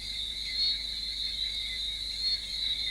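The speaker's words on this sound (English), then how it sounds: "The only sounds that breaks the silence are the lisping frogs." Frogs calling on a humid night, a continuous high trilling chorus with steady, even loudness, no voices.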